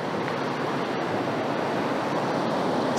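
Kymijoki river water pouring over Finnish granite rocks, a steady broadband rush that stays loud and constant throughout with no voices.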